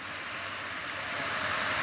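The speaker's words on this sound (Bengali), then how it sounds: "1 চিমটি গরম পানি দিচ্ছি" Hot water pours into a cooking pot of home-style chicken curry with turnip and potato, a steady hissing rush that swells slightly louder over a couple of seconds, with no voices.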